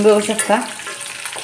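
Fish rubbed with turmeric and salt sizzles in hot oil in a pan, a soft, steady frying hiss. A person talks over it briefly.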